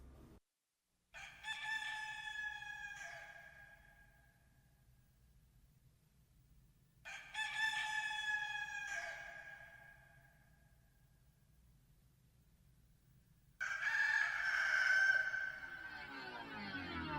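A rooster crows three times, each cock-a-doodle-doo loud and close with long pauses between, opening a recording of a song.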